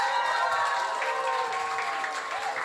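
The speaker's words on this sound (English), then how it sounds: "Can we get some round of applause for New Zealand?" An audience applauds for the New Zealand team at a robot combat world cup event, a dense, loud burst of clapping that carries steadily to the end.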